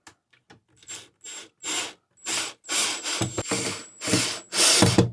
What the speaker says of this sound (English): You could use a screwdriver if need be, but in my case, I am using the drill.